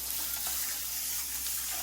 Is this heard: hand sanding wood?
no